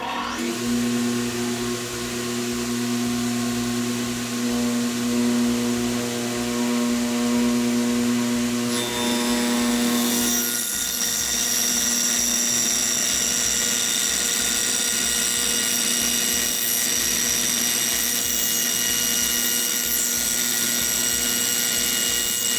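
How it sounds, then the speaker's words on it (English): A table saw runs with a steady motor whine while its blade is slowly raised up through a dado throat insert, the tone shifting partway through as the blade cuts into the insert; loud, close and continuous, with no talking. "I'm going to turn the saw on. I'm going to slowly raise the blade through it"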